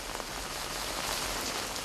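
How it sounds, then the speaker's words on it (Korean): Soft, steady patter of rain falling on heat-dried ground, dense and even, fairly quiet with no voices. "더위로 바짝 마른 땅을 적시는 빗방울"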